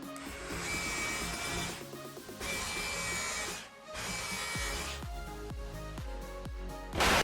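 A drill bores into an aerated concrete block in a new-build flat, without hammer action, in several long grinding bursts separated by brief pauses, close and fairly loud.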